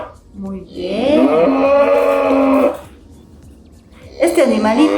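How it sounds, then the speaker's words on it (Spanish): One long, loud cow moo sounds close by, and a second moo starts near the end. No one speaks over the calls. "Este animalito es una vaca."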